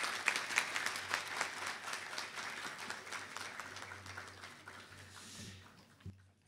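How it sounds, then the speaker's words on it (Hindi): An audience claps to welcome Amitabh Bachchan, the applause starting dense and lively and then thinning and fading over several seconds until only a few scattered claps remain. "एक बार जोरदार तालियों से स्वागत होना चाहिए श्री अमिताभ बच्चन जी का"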